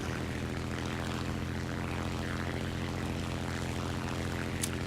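A propeller airplane engine in a flight combat video game drones steadily and loudly throughout, a constant harmonic hum with no voices over it.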